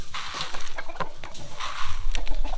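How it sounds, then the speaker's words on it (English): A flock of chickens clucks and squawks continuously at close range beside a farm feed-mixing setup with a cement mixer, with overlapping calls that rise and fall throughout and no talking. "We gotta get rid of these chickens."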